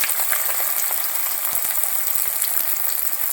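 Sliced onions fry in hot oil in a pan for a prawn roast, giving a steady, close, hissing sizzle with a few faint stirring clicks and no voices.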